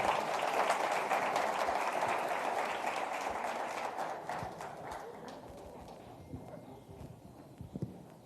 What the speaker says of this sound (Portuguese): Vamos aplaudir as crianças